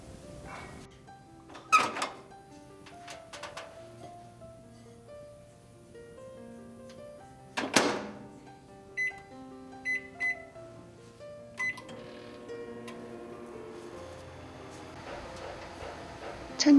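A kitchen microwave oven heating quartered lemon gives off a soft, steady hum, broken by the clunk of its door and a few sharp electronic beeps of the keypad and timer.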